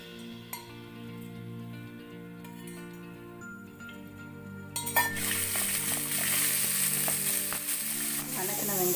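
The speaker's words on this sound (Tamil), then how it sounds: "முதல்ல வெங்காயத்தை வணக்கிக்கலாம்." Onions sautéing in oil in a pan for egg curry: a quiet hum at first, then a loud, steady sizzle that starts suddenly and holds to the end, with no talking.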